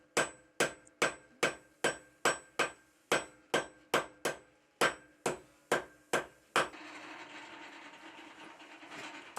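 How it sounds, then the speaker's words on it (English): Rapid, evenly spaced hammer blows ring out on a steel bar over an anvil horn, about fourteen sharp strikes, then stop, leaving a steady background hiss. "I'm hammering over the edge of the horn to force that part of the bar to move"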